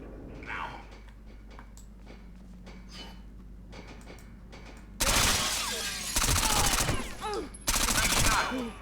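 Gunfire in Rainbow Six Vegas 2: after a quiet stretch with faint ambience, loud, close bursts of automatic fire erupt in three separate volleys, each cutting off abruptly.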